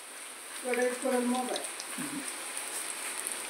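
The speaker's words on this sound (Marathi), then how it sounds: "मस्त असा बाहेर पाऊस चालू आहे" Rain falls steadily outside as a soft, even hiss, with a person's voice briefly rising over it near the start before the patter continues alone.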